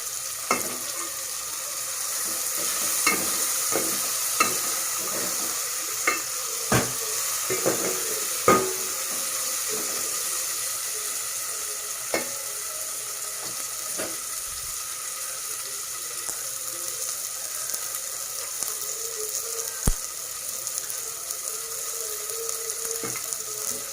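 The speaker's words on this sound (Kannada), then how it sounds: "ಚೆನ್ನಾಗಿ ಫ್ರೈ ಆಗಬೇಕಿದು. ಟೊಮೆಟೊ ಹಣ್ಣೆಲ್ಲ ಸರಿಯಾಗಿ ಬೇಯಬೇಕು." Tomatoes frying in a pan for vegetable sambar, a steady close sizzle broken by irregular scraping clicks and knocks as a spoon stirs them, with no voices.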